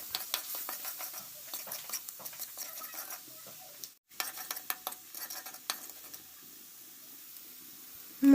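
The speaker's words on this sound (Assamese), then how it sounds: "এতিয়া মই জলকীয়া গুড়ি, হালধি গুড়ি আৰু সোৱাদ অনুসৰি নিমখ দি দিলোঁ আৰু অলপ পানী দি মছলাখিনি কচুৱাই ল'ম।" Masala spices with chili powder, turmeric and salt stirred with a little water in a pan for fish curry, giving soft scraping stirs and light sizzling patter with utensil taps throughout, briefly pausing midway.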